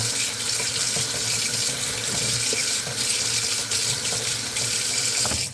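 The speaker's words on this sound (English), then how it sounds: "Wash the knife a little bit." Tap water runs steadily into a kitchen sink while a knife sticky with garlic is rinsed and rubbed by hand, a continuous close hissing splash with slight changes as the blade moves under the stream.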